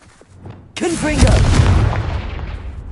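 A Confringo spell explodes in a Harry Potter game, a sudden loud boom that comes right after a shouted voice and rolls into a long, fading rumble.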